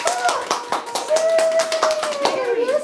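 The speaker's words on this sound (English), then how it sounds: "They clap!" Boys and girls clap in a church setting, a rapid run of sharp, close claps throughout, with a child's singing or humming voice carrying over them.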